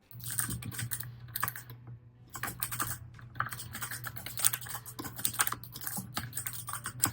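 Steady, rapid keystrokes on a Logitech MX Mechanical Mini keyboard with tactile switches, after a year of use, crisp clicky taps in an uneven rhythm with brief pauses, close and moderately loud over a low hum.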